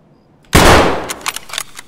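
Loud close gunfire in Escape from Tarkov: a sudden heavy shot bursts after a quiet moment, followed by a rapid string of sharper cracks and echoing reports.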